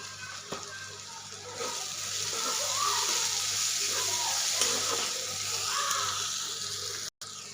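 Onion and tomato sautéing in a pan with red chili powder and turmeric, a steady soft sizzle with occasional stirring scrapes, fairly quiet and continuous throughout.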